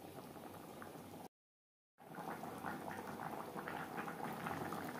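Bengali shol fish and potato curry bubbles steadily in a pan with a soft, continuous simmer close by. The sound cuts out briefly, then resumes slightly louder, with no one talking.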